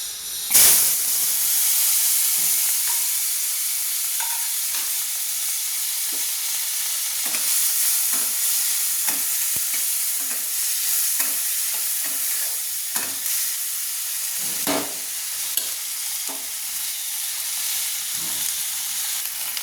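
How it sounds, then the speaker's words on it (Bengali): Chopped tomato frying in a pan of oil left over from frying fish, a continuous bright sizzle and hiss that stays steady throughout, broken now and then by soft stirring scrapes and small pops, with no talking. "কড়াইতে যে মাছটা ভেজেছিলাম সেই তেলে আমি টমেটোটা তুলে দিচ্ছি, টমেটো কুচি"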